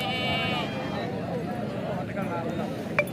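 A goat bleats at a livestock market where goats are sold for Qurbani, a wavering bleat near the start heard over a busy crowd and voices talking throughout.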